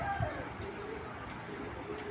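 Low, soft cooing of a female racing pigeon close by, a continuous throaty murmur over a dull background hum, with no talking.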